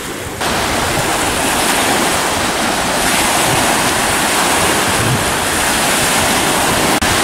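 Sea water in the Gulf of Finland churns and washes in a loud, steady roar with a wind-like hiss, constant and close, with no voices.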